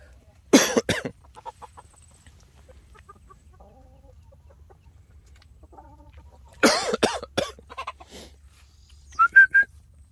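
Chickens and roosters on a poultry-raising farm give short, sharp clucks and cough-like calls in a few separate bursts, with a brief high whistling chirp near the end over quiet background.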